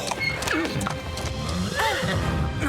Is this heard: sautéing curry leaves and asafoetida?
no